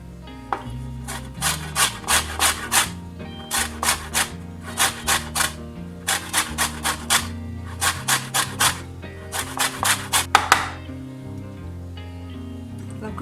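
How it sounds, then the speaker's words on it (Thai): A lime's peel is grated into zest for shrimp and caviar toast, with rapid rhythmic rasping strokes in steady bursts of four to six, close and clear over a faint low background hum. "แต่ว่าเราจะขูดเอาผิวมันก่อนนะ"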